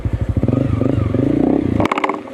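A motorcycle ridden along a muddy hillside trail, engine loud and close with a choppy pulsing beat that rises in a rev, then clattering knocks near the end.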